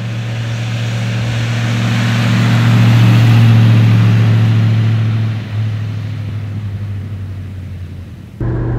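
A 1935 Horch 850 Sport car driving, its engine a steady low drone that swells, peaks, then eases off as it passes through wind, with a slight shift partway and a clunk near the end.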